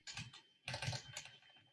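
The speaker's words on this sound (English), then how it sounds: "You're typing HTML." Two quick bursts of clattering keystrokes on a computer keyboard while working in a terminal, close and crisp with a short pause between them and no speech.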